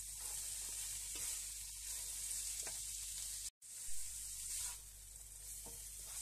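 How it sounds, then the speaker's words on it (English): Grated corn going into a hot pan with ampalaya leaves and minced pork, a continuous quiet sizzle and hiss with faint stirring scrapes and a brief dropout partway through. "And now we can add our corn."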